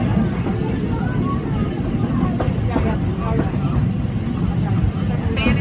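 A Walt Disney World Railroad train rolls steadily through the Magic Kingdom, a loud continuous rumble of wheels and carriage noise with faint rattles and brief squeaks throughout.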